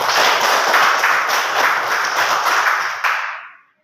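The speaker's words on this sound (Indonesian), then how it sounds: "Tepuk tangan untuk kita semua" Classroom applause for everyone during a math lesson: a short burst of loud, close clapping from a group that rings for a few seconds and then fades out.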